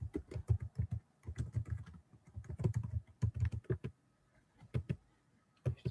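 Fingers clatter across a computer keyboard in quick bursts of keystrokes separated by short pauses, a close, steady typing sound with no voices.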